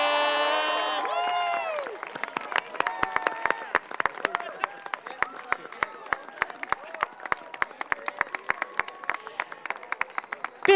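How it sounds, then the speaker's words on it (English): Applause and cheering from a large crowd at an outdoor high school graduation ceremony for the class of 2022, with dense steady clapping, shouts and a few whistles rising at first and then continuing evenly throughout. "Big round of applause for this class of 2022."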